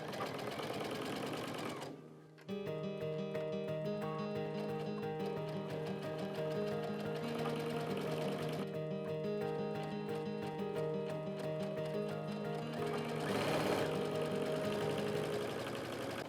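Home sewing machine stitching quilt-as-you-go pieces with sashing runs in a steady, continuous mechanical whir close to the microphone, pausing briefly near the start and holding a constant rhythm throughout.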